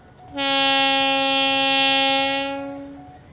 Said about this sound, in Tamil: அந்த ட்ரெயின் வந்தால் அதை நான் உங்களை காட்டிக்கொள்கிறேன்